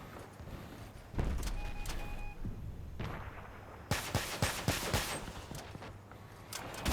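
Rocket launcher salvos firing in the video game Crossout: sharp bursts of rapid explosive thumps in quick succession, first a short volley, then a longer rattling barrage after a pause, with engine rumble underneath.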